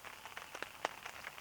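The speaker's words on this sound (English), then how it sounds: "It's been pouring rain all night." Rain patters softly on a campsite in Temagami after a night-long downpour, a faint steady hiss broken by a few scattered, slightly louder drop impacts.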